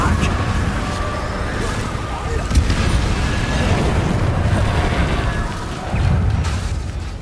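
Confringo spell explosions boom and rumble in Hogwarts Legacy combat, a dense low-heavy roar with a few sharper bursts, under a voice shouting spell names.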